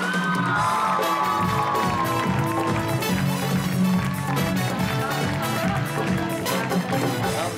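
Studio audience applauding and cheering to welcome actress, model and VJ Anusha Abbasi on a Chand Raat Eid special TV show, dense sustained clapping with whoops over music throughout.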